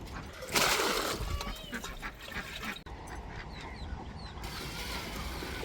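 Ducks quack and honk nearby amid splashing water, with a person speaking at times in the background.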